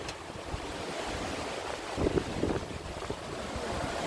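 Strong wind at sea around 22 to 23 knots, buffeting a sailing boat with steady rushing gusts and the wash of waves, close and continuous with no voices.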